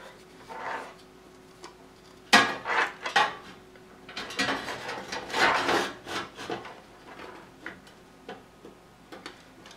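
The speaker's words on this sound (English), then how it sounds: "here's the hard drive. And it's going to go on the bottom here." A hard drive being fitted into a 386 PC case: sparse wooden-sounding knocks, scrapes and rubbing of metal parts, close and moderately loud, with quiet gaps between handling noises.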